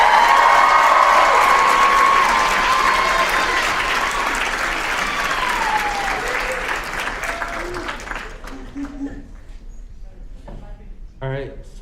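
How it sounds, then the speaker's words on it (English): A large school audience applauds loudly with some cheering, the clapping slowly thinning out and fading to scattered claps by the end. "Let's give the biggest round of applause for Matthew Downing."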